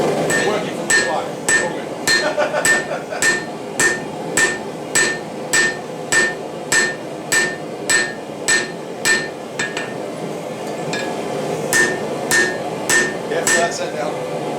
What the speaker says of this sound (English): actually being able to see those hammer strikes in real time